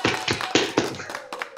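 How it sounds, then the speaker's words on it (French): A small group applauding at a triathlon swim gathering, a handful of sharp separate claps spread over a second and a half, close and fairly quiet. "On fait des gros applaudissements."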